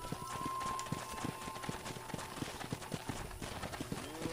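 Horse hooves clip-clop at a steady trotting rhythm in a Red Dead Redemption game scene, the regular thuds sitting under a continuous bed of ambient noise and a faint tone at moderate level.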